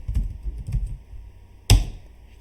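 Several soft keystrokes tap on a computer keyboard as a command is entered in a Linux terminal, followed by one firmer, louder key press, close and quiet.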